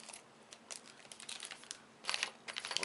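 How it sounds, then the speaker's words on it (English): Quiet, sharp snips and crinkles from scissors cutting open board game packaging come in irregular bursts, growing busier toward the end, with no talking. "I'm going to use scissors to open this."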